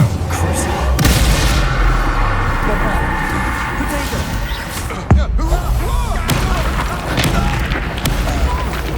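Spell impacts from casting Incendio and other spells in Hogwarts Legacy on PS5, heavy booming bursts and thuds repeating through busy combat noise, with a voice speaking over it.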